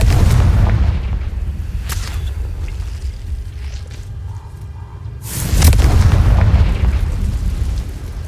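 Confringo spell blasts in Hogwarts Legacy: a loud booming explosion at the start, a short crack soon after, and another heavy blast with a rumbling tail near the end, with quiet ambience in between.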